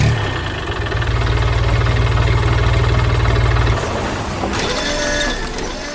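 An animated yellow machine saws through wood amid bushes and trees, its loud, steady engine drone running for about four seconds before cutting off into scattered mechanical clatter.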